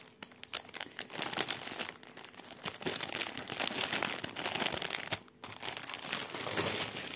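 Plastic packaging around cross-stitch embroidery skeins is crinkled and rustled by hand, a quiet close-up series of irregular crackles and crunches with brief pauses, with no talking.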